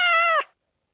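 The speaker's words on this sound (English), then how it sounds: "kitten realized that he is in trouble and started to meow" A young kitten stuck up a tree gives a single clear, loud meow lasting under half a second, which then drops off into silence.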